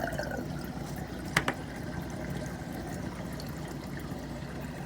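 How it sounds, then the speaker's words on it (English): Aquarium water draining through a capped DURSO standpipe in a 150-gallon bedroom fish tank, a steady soft trickle and gurgle with one brief louder splash near the middle, heard close and alone. "You hear that drain sound?"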